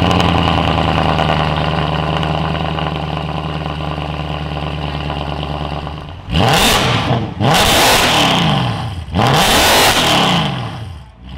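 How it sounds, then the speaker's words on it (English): A Mercedes W204 C63 AMG with an FI cat-back exhaust idles with a deep, loud burble, then is blipped in three sharp revs that rise and fall back, close and with no talking. "I actually had this car today, the day I'm recording this video, and here's what it sounds like."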